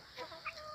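Farm chickens cluck briefly in a short, fairly faint burst of two or three soft clucks at some distance, with no voices over them.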